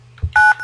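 An analog telephone on an FXS port dials a single DTMF key press: a short, clean dual-tone beep, close and steady, with faint room noise around it.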